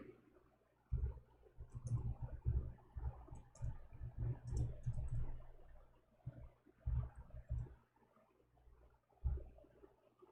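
Fingers type on a computer keyboard in quick, soft bursts of clicks broken by short pauses, quiet and close, with no speech.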